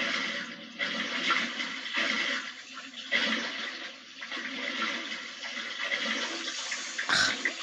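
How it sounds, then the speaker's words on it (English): A toilet flushing in The Sims 4 life-simulation game, a continuous watery rush with gurgling that runs steadily for several seconds, fairly loud, ending in a brief sharp swirl near the close. "And the toilet's busted too."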